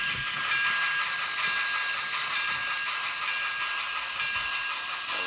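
N-scale model train accelerating away on a freshly ballasted layout: a faint, steady hiss and whir of small wheels and motor, continuous and even throughout with no voices.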